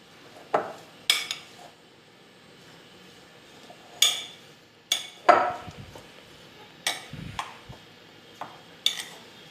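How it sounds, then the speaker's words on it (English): Vegetarian galauti kebab mixture being mixed with lime juice in a bowl, with a series of sharp clinks and scrapes from a spoon against the dish at an irregular pace, close and fairly quiet. "Add 1 spoon lime juice to it and again mix it well."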